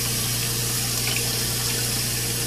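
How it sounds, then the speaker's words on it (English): Tap water runs steadily into a sink while a pet rat is bathed, a constant close gushing hiss with a low pump-like hum underneath and no talking. "She's afraid of the running water."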